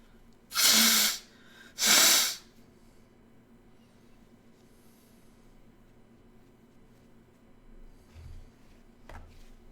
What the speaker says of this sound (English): everybody here heard me sneeze